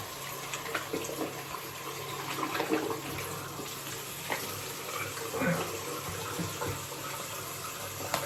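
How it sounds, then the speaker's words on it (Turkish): Water splashing while a face is washed at a sink during a classic Spanish-style wet shave, a steady wash of running and sloshing water with small splashes throughout, fairly close and moderately loud. "Güzel bir yüzümüzü yıkayalım."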